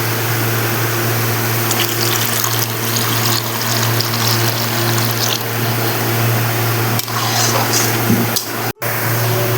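Water pours steadily into fried spice paste for a banana flower curry, a loud continuous gushing rush over a low hum that breaks off sharply near the end, with no voices.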